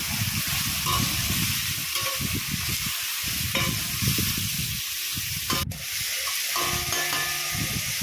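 Chopped ridge gourd and stems fry with ground spices, cumin paste and green chillies in a pan, giving a steady moderate sizzle broken by low scraping stirs, with a brief sharp clack near the end.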